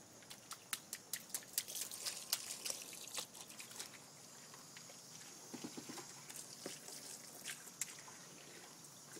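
Garden water trickles and drips in a backyard, making a quiet, uneven patter of small splashes and drops, busier at first and then thinning out, heard close by with no talking.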